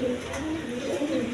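A pair of Cream Bar Beauty pigeons coo in a loft, low rolling calls repeating close by in a continuous murmur.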